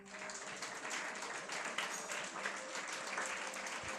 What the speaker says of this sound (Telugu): చేతులెత్తి చప్పట్లు కొట్టి స్తోత్రం చేద్దాం.